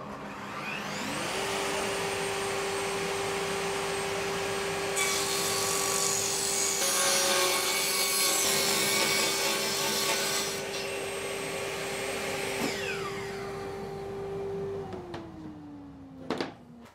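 A power drill or driver whines steadily at close range for most of the stretch, its pitch shifting as screws go in while casters are fastened to a wooden platform cart, then winding down near the end.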